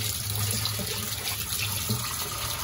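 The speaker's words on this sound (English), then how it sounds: "water is going through the hose" Water runs from a shower head through a hose into a turtle tank, a steady, even rush of flow that continues throughout with no voices.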